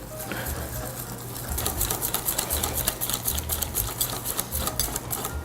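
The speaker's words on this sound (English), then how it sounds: "you'll want to whisk this until you have a really smooth batter with no clumps remaining" Waffle cone batter of eggs and all-purpose flour, for chocolate caramel waffle cones, is whisked briskly in a bowl: a fast, steady run of close, clicking taps that keeps going without a pause.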